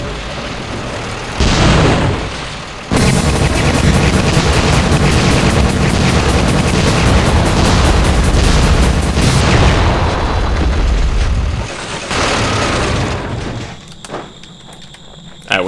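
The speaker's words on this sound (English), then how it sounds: "these two giant cannons attack, and then you go in and claim the loot" Tank cannons in the video game Gunman Chronicles fire and explode in heavy repeated booms, a dense roaring barrage that runs loud for several seconds before easing off.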